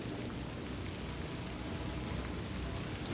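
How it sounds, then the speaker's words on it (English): Steady, dense hiss of heavy rain falling during a storm, constant and even throughout with no voices. "it's just started raining like the dickens here now"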